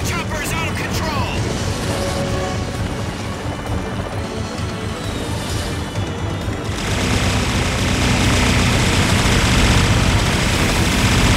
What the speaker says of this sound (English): That chopper is out of control.